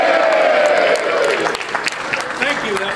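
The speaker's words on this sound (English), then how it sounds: "I need to hear a really loud, really wild, raucous cheer" A crowd at a reading of Casey at the Bat at the New York State Baseball Hall of Fame erupts in loud, wild cheering and applause, tapering into scattered claps and voices.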